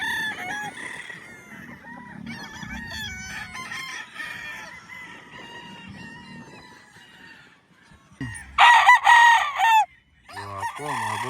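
Banded local roosters on a farm give several crowing calls, a long steady stretch followed by a loud, close crow near the end and another starting after it, with clucking in the background.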